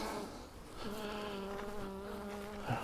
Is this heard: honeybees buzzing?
yes